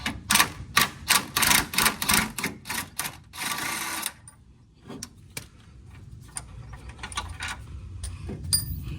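A ratchet clicks in quick bursts while loosening a suspension bolt on a Grand National, about ten sharp close clacks followed by a longer rasp, then quieter shuffling and light metallic knocks.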